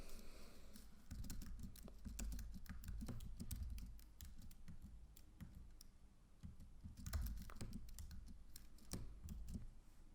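Python code being typed on a computer keyboard, a quiet irregular patter of key clicks in bursts, with a few louder presses and brief pauses between runs.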